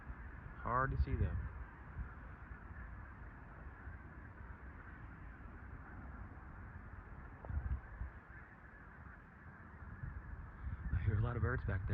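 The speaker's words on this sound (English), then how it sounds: "I hear a lot of birds back there." Many birds call at a distance, with harsh crow-like caws coming in bursts at the start, in the middle and near the end, over a steady noisy background.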